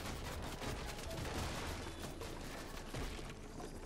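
A steady stream of gunfire in a Fortnite PvP match, fairly quiet and dense, with rapid shots running together for the whole stretch and no voices.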